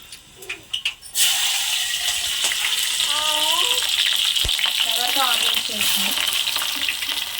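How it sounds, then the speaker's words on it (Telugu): Chopped green chilies hit hot oil in a pan for a spinach fry and sizzle loudly and steadily, with stirring and brief voice-like sounds in the background. "పచ్చిమిర్చి వేస్తున్నాం"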